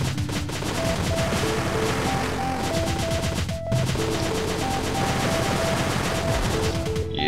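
Rapid machine gun fire in the Cave Story video game, a dense continuous rattle of quick repeated shots with game music and effects, briefly pausing midway before resuming.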